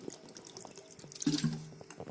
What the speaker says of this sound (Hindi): एह्दे च असें थोड़ा जेहा पानी होर पाना